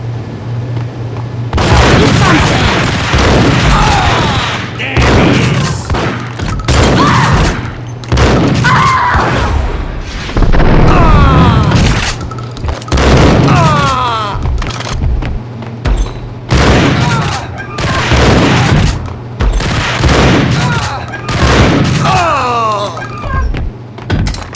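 A Max Payne gunfight, with loud repeated gunshots and heavy booms fired in bursts across the scene, close and punchy, separated by short pauses.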